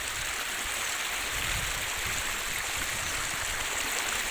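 River water rushes steadily around the Balunkeshwar temple at Kankmal after a night of heavy rain, a dense, continuous wash of broadband noise with no breaks and no voices.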